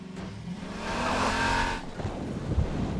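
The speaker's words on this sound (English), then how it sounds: "The audio for the buggy was challenging because we wanted it to feel like a really powerful vehicle that's driving along at super high speed" The engine of the buggy from the video game Half-Life 2, a powerful vehicle driving at high speed, roars steadily and loudly, swelling and then shifting into a rougher rumble with tire noise.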